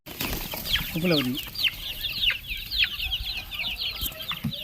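Fighting-breed chickens cluck and crow nearby, a quick run of sharp calls and chirps with one lower rolling squawk, over a noisy outdoor background and some human voice.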